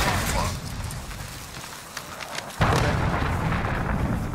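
A video game missile explosion lands as a loud, sharp boom partway through, with a rumbling blast that carries on afterward under the players' voices.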